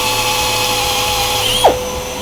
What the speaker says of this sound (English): I'm going to drill the holes in it